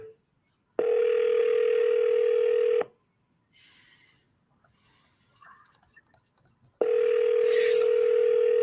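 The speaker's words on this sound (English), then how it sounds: "should I make the next dial?" Telephone dial tone, a steady loud electronic hum, sounds for about two seconds, then after a quieter gap with faint noises it returns alone and continues.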